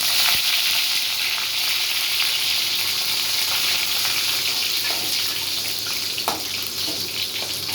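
Steady loud sizzling of garlic, curry leaves, mustard seeds, fenugreek and cumin frying in hot oil, continuous throughout, with a few faint clinks near the end.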